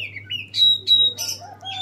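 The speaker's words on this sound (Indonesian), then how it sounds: "Suara kacer di alam" Oriental magpie-robin calling in the wild: a quick run of clear, ringing whistles and sharp chirps, close and loud, with a faint hum underneath.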